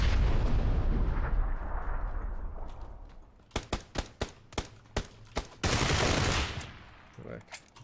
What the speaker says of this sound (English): That grenade was funny. Blew him right out from the cover.